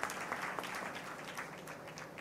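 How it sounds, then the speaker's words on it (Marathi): An audience at a literary festival session in Marathi applauds, giving a dense, even patter of clapping that sounds fairly distant and quiet and lasts only a couple of seconds. "एकदा जोरदार टाळ्या त्यांच्यासाठी झाल्या पाहिजे."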